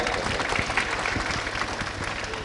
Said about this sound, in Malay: Kita bagi tepukan untuk Ustaz Jah, tuan-tuan dan puan-puan.